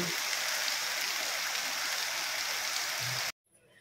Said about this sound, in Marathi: पाऊस बघा केवढा पाऊस आहे,